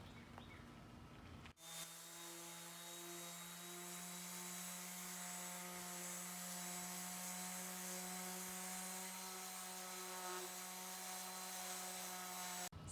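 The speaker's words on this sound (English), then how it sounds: "We're going to start sanding it with a coarse sandpaper" Steady, continuous droning of a power sander working over a wooden fireplace mantle with coarse sandpaper, a constant mechanical hum with a gritty rasp, loud and uninterrupted after a brief start.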